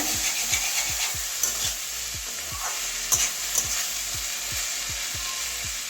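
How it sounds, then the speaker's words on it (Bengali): Potatoes and cauliflower fry in a pan for a Bengali dish, a constant sizzle underneath rhythmic scraping strokes of a spatula stirring about twice a second, close and moderately loud, with no talking. "আর একটু কড়া করে ভাজবো একটু লাল লাল করে"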